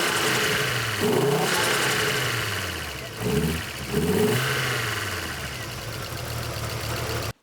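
A Fiat Coupe engine runs at a lumpy idle with a steady mechanical drone and a couple of brief revs in the middle, close and fairly loud, then cuts out abruptly at the end.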